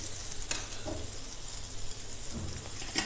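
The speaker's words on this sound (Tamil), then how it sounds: "இந்த பேன் சூடானதும் இதில் கொஞ்சம் போல் பட்டர் சேர்த்துடலாம். இந்த பட்டர் நல்லா மெல்ட் ஆகட்டும்." Butter melts and sizzles in a hot pan while burger patties are made: a steady, fairly quiet crackling hiss with a few light clinks from a utensil against the pan, and no voices.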